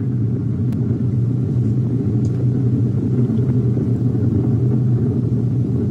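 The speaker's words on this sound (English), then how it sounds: "The rumble of the powerful Ariane 5 now being felt here in the control center." Deep, steady rumble of an Ariane 5 rocket climbing during launch ascent, carrying the James Webb Space Telescope, heard from a distance as a continuous, even low roar with no talk over it.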